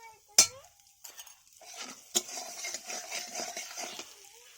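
Salt and turmeric go into a pan before okra is fried. A sharp spoon tap is followed by scattered clinks, another tap, then a stretch of soft scraping and stirring against the pan.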